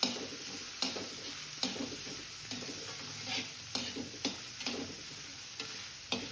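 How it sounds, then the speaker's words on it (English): Chopped onions, green chili and cumin seeds frying in a pan, with a steady close sizzle and periodic clacks of a utensil stirring against the pan. "Fry them until transparent"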